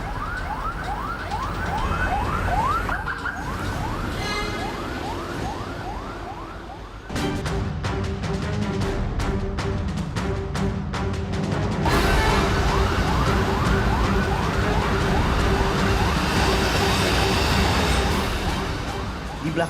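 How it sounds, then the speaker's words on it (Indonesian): An ambulance siren wails in rising sweeps through a traffic jam while a private car fitted with a siren and strobe lights follows it, the siren pattern switching midway to rapid yelping bursts over engine and road noise. "mobil pribadi mengikuti ambulans sambil menyalakan sirine dan strobo"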